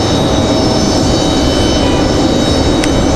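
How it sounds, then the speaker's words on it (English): A Southwest Airlines airliner arriving at Raleigh-Durham airport, a loud steady broadband jet roar with a constant whine, close and unbroken throughout. "We also have a Southwest coming in right behind them"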